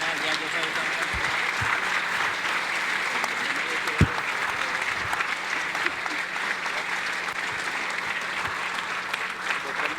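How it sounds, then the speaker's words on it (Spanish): Broad, sustained applause from a congregation thanking visiting brothers at a church gathering, a steady even wash of many hands lasting throughout, with a faint voice beneath. "queremos darle un aplauso"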